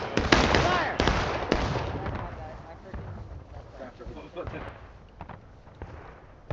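A firing squad's volley rings out on a stage production of Cyrano de Bergerac: several sharp gunshot bursts in the first second and a half, then scattered fainter reports over a low rumble, with voices speaking underneath.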